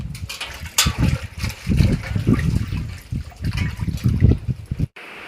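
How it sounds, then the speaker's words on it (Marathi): Clothes being washed by hand with water give uneven splashes, sloshing and trickles close by, in irregular bursts that stop briefly just before the end. "आता मी धुणं धुवून घेते"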